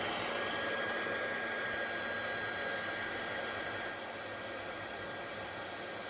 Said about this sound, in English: dry this with the heat gun